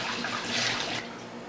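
Cooled homebrew beer wort pours out of a vessel in a steady splashing liquid stream, loud and close, easing off near the end with no talking.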